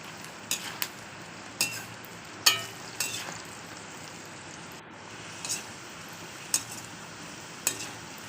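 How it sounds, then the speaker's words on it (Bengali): Sliced onions fry in a pan for birista with a soft steady sizzle, broken by a series of sharp spatula scrapes and clinks against the metal pan at irregular intervals. "বেরেস্তা করার জন্য ভালো করে আমি পেঁয়াজটা ভাজা ভাজা করে দিচ্ছি।"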